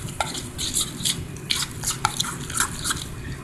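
A shrimp filling with white pepper, cornstarch and water is stirred by hand in a bowl, making quiet, irregular wet clicks and squelches close up, with no voices.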